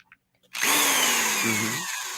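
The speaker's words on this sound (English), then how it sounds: "I drill right through the pack" A power drill bores through a sealed trading card pack, starting abruptly after a few soft taps and running loud and steady for over a second and a half as the bit grinds through the cards.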